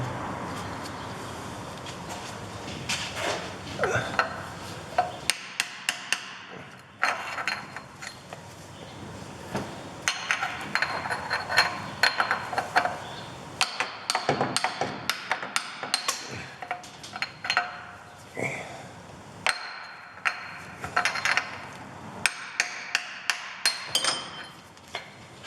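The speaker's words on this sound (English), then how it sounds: "Get a chisel and see what we can actually remove from there." A chisel is hammered against a bearing race on a Citroen C15 drive shaft, a long series of sharp metallic strikes, sometimes in quick bursts, sometimes single blows, close by with faint clinks between.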